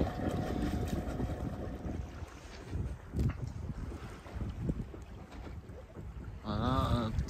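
A sailboat runs dead downwind in about ten knots of breeze after leaving Samos, Greece, with steady broadband wind and water rush across the hull and a brief creaking, whistling sweep near the end.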